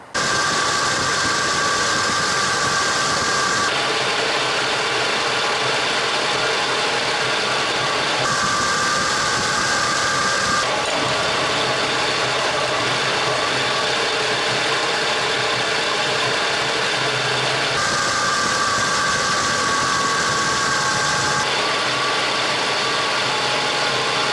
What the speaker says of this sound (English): so now we got to start the engine back up.